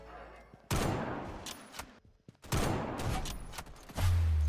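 Sniper rifle shots fire in a Roblox video game, three loud sharp blasts spaced about two seconds apart, each with a short decaying tail, close and prominent.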